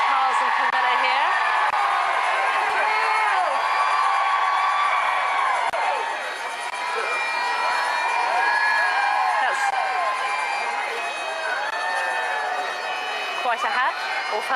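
A large crowd outside a royal wedding cheers and whoops continuously as the Prince of Wales arrives, a broad distant roar that swells and eases while a commentator talks over it.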